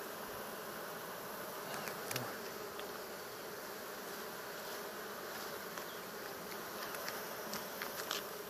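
Bees buzzing at an open beehive give off a dense, continuous drone throughout, steady and close, with no talking.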